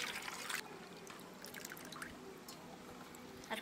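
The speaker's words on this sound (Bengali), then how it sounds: "ডিমে জল দিছি ঠান্ডা হওয়ার লেগে" Water pours over boiled eggs to cool them, a quiet trickling splash that starts louder and settles into a faint running dribble outdoors.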